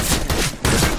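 Rapid gunfire in CS:GO cracks out in two loud, close bursts of automatic shots, separated by a brief gap.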